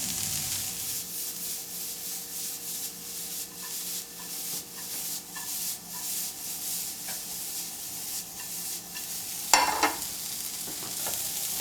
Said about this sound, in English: you want to saute the onion until it becomes translucent